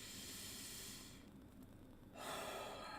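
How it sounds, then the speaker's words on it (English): A single deep breath taken during a guided calming exercise for fear and anxiety: a long, airy inhale close to the microphone, a brief quiet hold, then a louder, breathy exhale, with no talking. "Take that deep breath."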